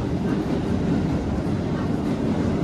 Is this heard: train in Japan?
yes